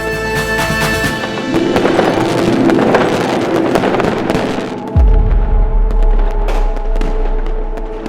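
Fireworks crackle and burst in a dense, sustained barrage, followed by a deep booming explosion and a lingering low rumble, loud and close.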